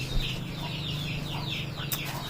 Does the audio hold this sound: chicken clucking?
yes